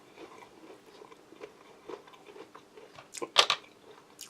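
Someone bites into and chews a salted cracker topped with pork pâté, a series of soft, close crunches and chewing sounds with a sharper bite near the end, quiet and with no talk.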